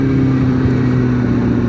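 A Kawasaki ZX-4RR motorcycle engine running in sport mode makes a loud, close, steady drone with a firm humming tone for a short stretch.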